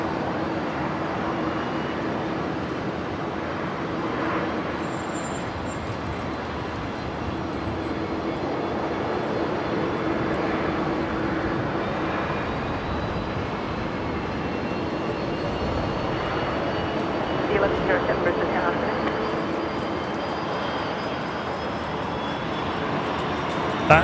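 A Link Airways Saab turboprop arrives from Orange, New South Wales, at Brisbane Airport, a steady broad engine drone at moderate distance holding level throughout, with a slight swell near the end.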